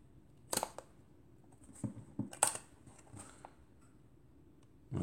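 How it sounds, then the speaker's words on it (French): Krauss Peggy II rangefinder camera with a Schneider Xenon 45mm f2 lens, its shutter cocked and fired at a fast speed: a few crisp, close mechanical clicks and snaps in a quiet room. "Donc on arme l'appareil, hop, et après on vient déclencher"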